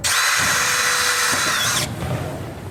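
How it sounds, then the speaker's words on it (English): A handheld power drill runs at high speed, pre-drilling a hole with a 3/32 bit to mount small rubber bumpers; the loud, steady whine carries for nearly two seconds, then cuts off into quiet room noise. "So what you do for the bumpers, pre-drill with a 332 screw."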